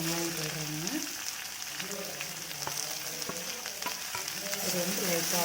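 Onions frying in a pan with mustard seeds for beans poriyal give a dense, continuous sizzle with scattered crackles and pops, close up, with faint speech mixed in underneath.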